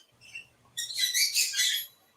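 Pet birds inside a dark house give a burst of rapid, bright chirping and twittering that starts partway through and carries on loudly, after a faint low murmur at the start.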